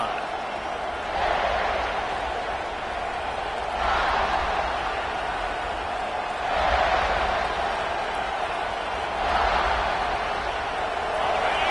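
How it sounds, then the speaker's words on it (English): A football stadium crowd roars steadily, with broad noise that swells and ebbs in regular waves, loud and continuous with no clear voices on top. "This crowd bringing an ear-splitting welcome to their visitors."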